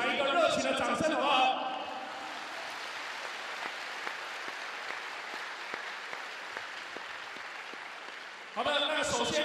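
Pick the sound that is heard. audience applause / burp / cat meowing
audience applause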